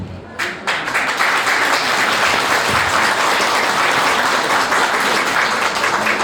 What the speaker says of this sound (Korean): 다시 한번 부부가 된 신랑 신부에게 큰 박수로 축복의 박수를 보내주시기 바랍니다